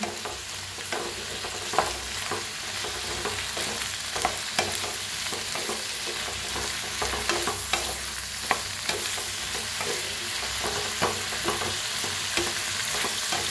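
Potatoes being stirred and roasted in a pan for a fasting-day potato dish: a steady close sizzle broken by frequent scraping stirs, with no talking.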